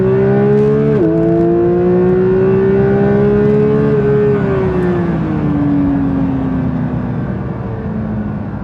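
Porsche 911 GT3 with a naturally aspirated, non-turbocharged engine pulling hard, a loud, continuous close engine note that shifts in pitch as it accelerates, with no talking.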